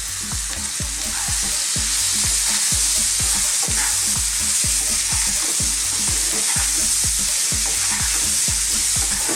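Diced potatoes and spices stir-fry on high heat for an Indian vegan aloo rice dish: a loud continuous sizzle under regular rhythmic scraping strokes of a spatula, with no voices.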